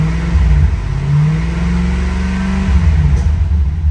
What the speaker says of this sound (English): Let me give it a rev or two here for you.